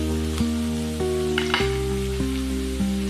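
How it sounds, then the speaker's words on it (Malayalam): Onion, green chilli, ginger, garlic and cashews sauté together in a pan for butter chicken, giving a steady close sizzle under sustained musical tones that shift in pitch every half second or so. "എല്ലാം കൂടെ ഒരുമിച്ച് നമുക്കൊന്ന് വഴറ്റിയെടുക്കാം"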